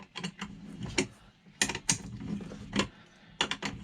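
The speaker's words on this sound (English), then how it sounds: "Retighten these 12mm bolts." A ratchet wrench retightens 12mm bolts on a Rural King RK55 tractor, giving bursts of quick, sharp clicks close by, separated by short pauses with no talking.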